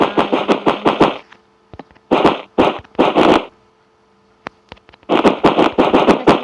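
TNT detonating in the Minecraft game, several bursts of rapid crackling blasts separated by short silences, loud and close with no voices.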